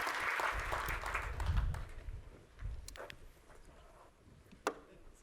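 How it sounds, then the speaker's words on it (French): Audience applause after volunteers return to their seats at an IT talk, a burst of clapping that swells early then thins into scattered claps over room murmur. "Et on peut les applaudir, oui."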